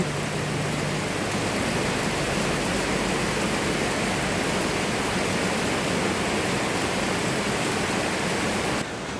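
Heavy storm rain and rushing water pour down without pause near rice fields, a dense, loud, even roar that cuts off abruptly at the end.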